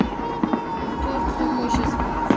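Fireworks salute bursts crackle at a distance over a steady background rumble, with a few faint pops scattered through the stretch and no clear voices.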